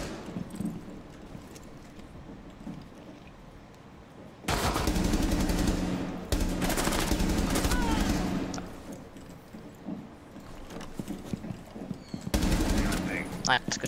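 Gunfire from the Rainbow Six Siege video game bursts out in loud, rapid automatic volleys after a quieter opening, with a brief pause mid-clip before another burst near the end.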